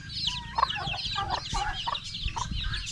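Chickens and a rooster cluck on a farm, with steady overlapping clucks and chatter from several close birds against a busy, moderately quiet yard background.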